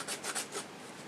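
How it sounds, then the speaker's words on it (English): A hand file rasps back and forth in a small rectangular window opening cut after drilling starter holes, with about four quick close strokes and then a brief quiet tail. "and get a file going"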